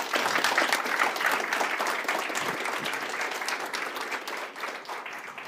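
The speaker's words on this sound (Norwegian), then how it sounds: "applaus til Magnus Takvam" An audience at a climate breakfast event applauds Magnus Takvam, giving a steady, full round of clapping that holds for several seconds and eases slightly near the end.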